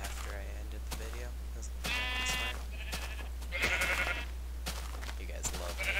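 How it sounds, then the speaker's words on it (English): Sheep bleating in Minecraft, a few short nasal bleats spaced across the moment, sitting under game sounds and a steady low hum with a voice nearby. "I missed the sheep"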